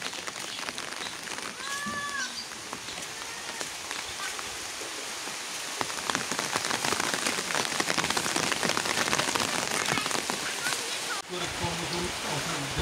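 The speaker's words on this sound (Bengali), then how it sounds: "সকাল সকালে বৃষ্টি শুরু হয়ে গেল" Steady morning rain pours down in rural Bangladesh, drumming evenly on surfaces nearby and growing slightly heavier midway, with a faint bird call early on.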